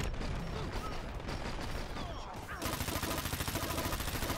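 Rapid automatic gunfire in the online shooter Dirty Bomb, dense bursts that give way to a steady rattling stream near the end, loud and close.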